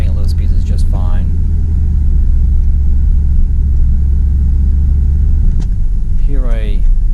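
A 2004 Dodge Dakota LST Club Cab pickup with 117k miles rolls at low speed, its engine giving a steady, close, low rumble throughout while someone talks over it at the start and end.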